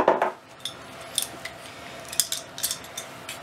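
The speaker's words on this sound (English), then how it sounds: "These are ratchet cutters, so it's going to take me a little bit here." Ratchet cutters squeeze through PVC pipe in a series of short, crisp snaps and clicks, about a dozen spaced irregularly, faint and close with quiet between them.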